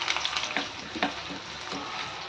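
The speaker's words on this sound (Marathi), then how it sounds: "तेल चांगलं तापलं की एक बारीक चिरलेला कांदा" Finely chopped onion sizzles and crackles steadily in hot oil, with a few sharp pops and scraping stirs.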